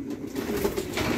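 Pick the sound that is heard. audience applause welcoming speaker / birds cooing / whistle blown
birds cooing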